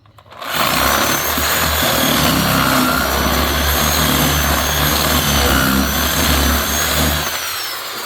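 A boring bit drills into a native-wood table, a loud, steady motorized whir running close and unbroken for about seven seconds before easing off at the end.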